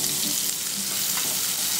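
Onion and green chilli fry in a hot pan with a steady, dense sizzle close by, briefly and continuously, without any talking.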